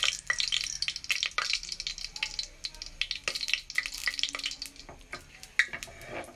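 Bay leaves dropped into hot oil for ghee rice, a close crackling sizzle with quick spits and pops scattered throughout.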